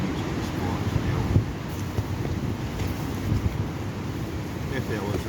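Wind on a windy day buffets the microphone outdoors, a continuous low rumbling roar with small gusty swells throughout.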